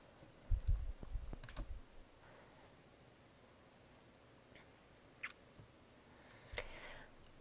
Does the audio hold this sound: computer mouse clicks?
yes